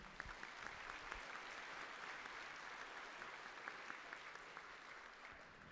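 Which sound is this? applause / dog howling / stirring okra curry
applause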